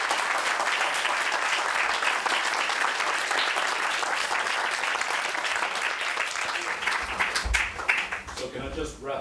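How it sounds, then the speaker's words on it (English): An audience applauds after a panel discussion, a sustained roar of clapping from a crowd that carries on loudly before tapering off as voices come through at the end. "give them a round of applause"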